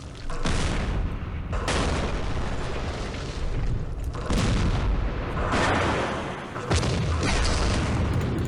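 Long-range tank cannon fire in a Middle East war strategy game: heavy booming blasts roll out in repeated bursts, loud and continuous with rumbling decay between shots.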